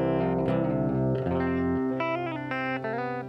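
Electric guitar played through an amp pushed for gain, compressed after the amp and run through effects, giving sustained chorused, distorted chords and ringing notes with a reverb tail, loud and continuous with no voices.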